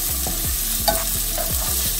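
Chopped onion hits a hot pan during spaghetti squash boat prep, sizzling steadily while a spoon stirs with rhythmic scraping strokes, close and clear, with no voices.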